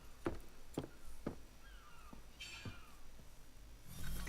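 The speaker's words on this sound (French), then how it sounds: "Des mouettes. Ça veut dire qu'on est près d'une île." Seagulls call in the Assassin's Creed 3 video game: several short, sharp cries at irregular intervals over a faint background, with a louder burst at the end.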